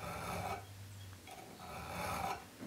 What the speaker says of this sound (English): if you want to file the cutting edge there